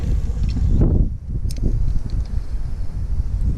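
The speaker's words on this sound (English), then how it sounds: "This wind isn't good." Wind gusting at a lake during a fishing outing, a steady low rumble buffeting the microphone with a brief lull in the middle, close and fairly loud, no voices.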